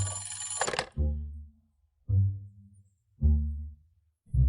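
A telephone bell rings in three loud, separate bursts about a second apart, following a shrill electronic tone at the start, nearby indoors with no one talking.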